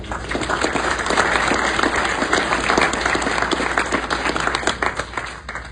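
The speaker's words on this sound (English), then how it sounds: "just please give that group a round of applause for" Audience applause at a golf association hall of fame event, a full, even wash of many hands clapping at steady loudness throughout the short stretch.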